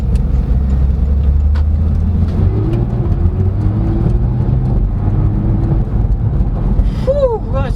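A 2016 Porsche 911 GT3 RS of the 991.1 generation accelerates hard, its engine note loud and close with a steady rising drone and a brief faint voice toward the end.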